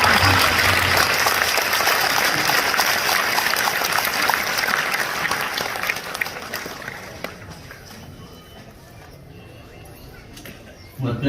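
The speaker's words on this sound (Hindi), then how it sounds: "ताली बजाने से रक्त संचार एकदम चालू।" Loud, dense clapping from a crowd gathered for a religious discourse at Nemavar, holding strong and then slowly fading out, with a sharp sound at the very end.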